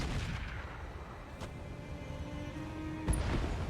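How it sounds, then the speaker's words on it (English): Artillery lobbed at a Padilla mech in the RogueTech battle game rumbles as a dense, continuous roar of booms, with a sharper blast near the end and no talking. "we are going to lob artillery out at this Padilla"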